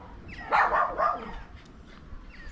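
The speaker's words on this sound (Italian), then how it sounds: "due cagnolini dietro il cancello, ti stanno chiamando." Two small dogs bark behind a gate in a quick burst of two or three yaps, then fall quiet over a low background hum.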